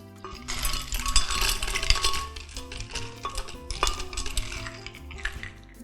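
Ice cubes clatter and clink into a blender jar over raspberries for a smoothie, a dense run of hard rattling knocks that swells and fades for several seconds, close and loud with no talk.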